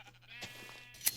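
A Minecraft sheep bleats once in the video game, a short, quiet wavering bleat over faint background sound, followed by a brief sharp click.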